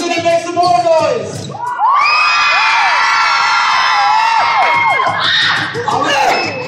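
A gym full of high school students yells and cheers at a dance performance; scattered shouts give way to a long, loud wall of screaming with sliding whoops, then ragged, uneven yelling.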